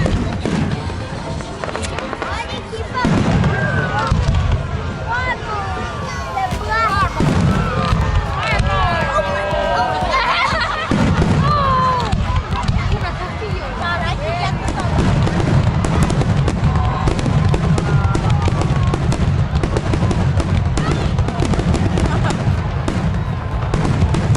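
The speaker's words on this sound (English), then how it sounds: "We're watching fireworks, guys. On the beach." Fireworks exploding over a beach at night, a continuous loud barrage of bangs and crackles with people talking and cheering throughout.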